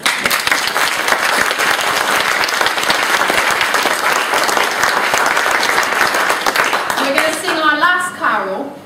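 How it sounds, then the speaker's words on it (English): A church congregation at a nativity service applauds the performers, loud continuous clapping; near the end a voice and singing-like tones rise over the fading claps. "Shall we give all our performers a round of applause?"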